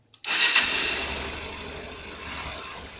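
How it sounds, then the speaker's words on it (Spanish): A motorcycle engine cranks and catches abruptly, then settles into a fast, buzzing idle that gradually steadies. "vamos a encender la moto"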